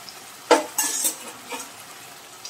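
A metal spoon scrapes and clinks in a cooking pan as coriander, turmeric, garam masala and Kashmiri chili powder are stirred into mushroom masala curry, with a few sharp strokes, soft sizzling and no talking.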